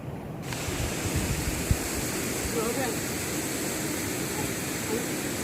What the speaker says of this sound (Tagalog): Ang lakas ng alon ng tubig, di ko makatawid.